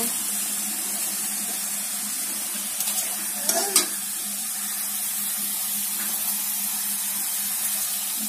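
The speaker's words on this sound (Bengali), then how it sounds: "সব মশলা দিয়ে দিলাম, রসুন বাটা দিয়েছি, ভালো করে কষিয়ে নিতে হবে" Spices with turmeric and garlic paste are sautéed in a pan, giving a constant low sizzle and a few brief scrapes of stirring at the middle.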